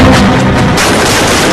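Dense, loud gunfire and booming blasts from an action movie fill the whole moment as one continuous roar, with no voices over it.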